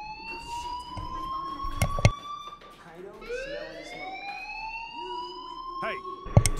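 A school alarm siren in the video game Life is Strange Remastered wails, rising and falling in repeated sweeping tones, fairly loud, with sharp clicks and a brief voice mixed in.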